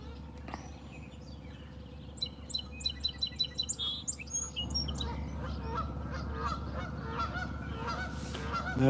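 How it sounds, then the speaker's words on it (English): Geese honking outdoors in a yard near a fishing spot: a rapid run of loud, evenly spaced honks midway, with smaller birds chirping and a steady low background rumble. "now we got the geese and the little goose is lost"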